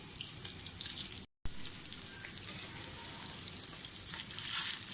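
Mutton shami kababs frying in a pan over a medium flame give a soft, steady sizzle, fairly faint and close, with a brief dropout into silence early on and a slight rise in crackle toward the end.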